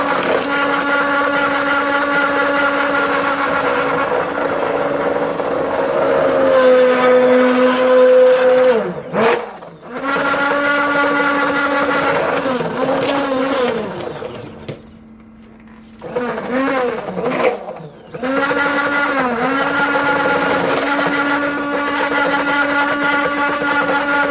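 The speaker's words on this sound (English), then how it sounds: "My stick blender is burning up, but I'm almost there." Stick blender whirring through thick castile soap paste, a loud motor whine that bogs down and shifts pitch as it churns, stopping briefly several times before starting again, with no talk over it.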